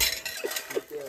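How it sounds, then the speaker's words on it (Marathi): Utensils and dishes clinking as someone washes up after cooking on a trek near Harishchandragad, a few light metallic chinks and scrapes close by amid faint background murmur. "त्याला भांडी घासायला लावली"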